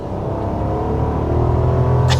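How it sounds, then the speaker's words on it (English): A 2024 Rolls Royce Ghost with a twin turbo V12 accelerates, giving a deep smooth engine rumble that builds steadily in loudness, heard from nearby. "Acceleration isn't even the focus, but you still have a twin turbo V12."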